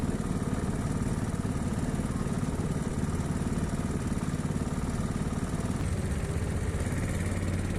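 Racing kart engine during a practice session at an indoor-style kart track, a loud continuous buzzing drone heard close from the kart itself, with a steady pulsing rasp and no speech.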